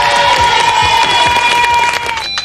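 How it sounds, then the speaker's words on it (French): A studio crowd on a 1994 French children's TV show cheers and claps for the four winners, a loud, busy wash of applause and excited voices with music in the background. "Bravo à tous les quatre, on peut les applaudir"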